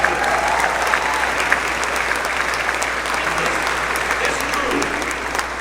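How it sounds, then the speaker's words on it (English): An audience at a NASA press conference for the Artemis II astronaut crew breaks into sustained, even applause, a dense steady clatter of many hands filling the hall, with a voice faintly underneath. "Yeah, you can clap for that."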